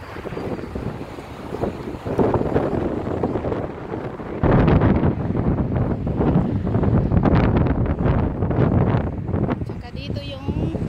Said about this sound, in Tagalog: Mahangin talaga dito sa labas.